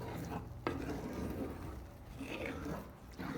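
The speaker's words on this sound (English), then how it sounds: "So we have to keep stirring and stirring and stirring." Milk gravy for biscuits and gravy stirred in a pan, heard as a quiet, continuous scraping and swishing with a soft sizzle and one sharp tap of the utensil.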